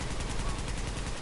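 Rapid burst of gunfire from a firefight in the video game The Division, a dense crackling volley filling the short moment at moderate, steady loudness.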